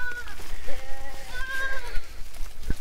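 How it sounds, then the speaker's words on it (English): Goats bleat repeatedly in a pen on a farm during an ice storm, several wavering calls overlapping at close range with light rustling and a brief thump near the end. "We got happy goats here."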